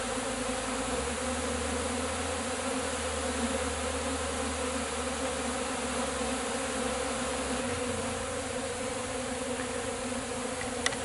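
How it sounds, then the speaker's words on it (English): Honey bees hum steadily inside a lidded box after a cut-out removal, making a dense, continuous buzz with a low drone that shifts partway through. "I'm gonna set the lid on here to let these bees settle down for a minute and figure out where home is."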